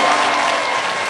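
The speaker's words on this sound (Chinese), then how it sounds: "谢谢大家的掌声" A TV studio audience applauds a host's entrance, a dense burst of clapping at fairly close range that carries on at steady loudness for the whole short moment.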